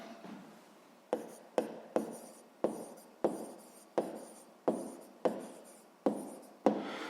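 Pen writing on paper during a sixth-grade maths lesson, heard as a steady series of about ten short scratchy strokes, each starting with a sharp tap and trailing off, fairly close and without talk.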